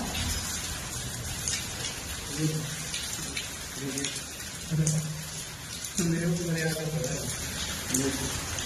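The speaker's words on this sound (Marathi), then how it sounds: "ह्या बघ गारा" Hail and heavy rain pound down in Haryana, a dense, steady hiss and patter throughout, with several people talking in short bursts over it.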